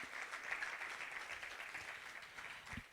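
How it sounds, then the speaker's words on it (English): A conference audience at an economics event applauds in a faint, distant, steady wash of clapping with no voices on top. "I think Doctor deserves a bigger round of applause than that."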